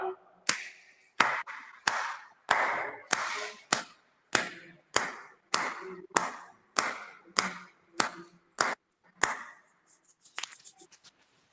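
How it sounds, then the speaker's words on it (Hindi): Hand clapping during a yoga session, about fifteen sharp, evenly spaced claps close by in a steady rhythm, then fading into a few softer taps. "अब ताली बजा लेते हैं अपन 15 बार।"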